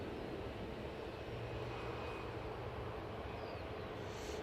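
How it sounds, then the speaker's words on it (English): A plain-liveried TUI airliner taxis along a taxiway onto the runway at Manchester Airport, its jet engines giving a loud, steady, continuous roar with no talk. "Plain Jane Tui making its way down Victor Charlie onto the runway."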